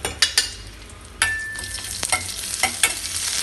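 Curry leaves crackle and sizzle in hot oil for a coconut chutney tempering, with a burst of sharp pops and spits close by over a fading hiss.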